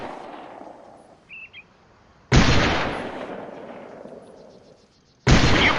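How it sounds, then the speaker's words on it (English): Weapon fire in the Delta Force: Land Warrior video game: two loud, close gunshot blasts, each with a long decaying echo. A quiet stretch comes before the first, and the second arrives about three seconds later. "Firing your weapon causes it to kick."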